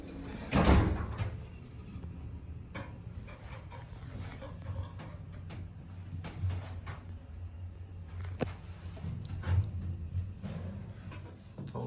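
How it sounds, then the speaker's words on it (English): A Westinghouse hydraulic shuttle elevator door opens with a thud and a rumbling slide, followed by low mechanical hum and scattered clicks and knocks in the lobby. "That door over there opened up."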